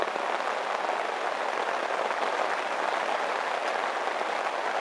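Steady rain pours down without a break around a summer carp fishing spot in Shropshire, a dense, even hiss that stays loud and constant throughout with no other sounds.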